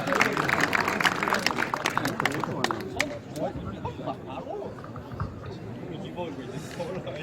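Warm applause from the crowd at a jokgu tournament ceremony, dense clapping that thins and fades over several seconds while chatter and an announcer's voice carry on over it.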